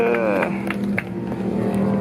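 Kawasaki Ninja ZX-4R motorcycles on the final lap of an amateur race at a motorbike fest, their engines whining and shifting pitch beneath a person talking in the foreground.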